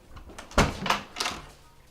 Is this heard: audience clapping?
no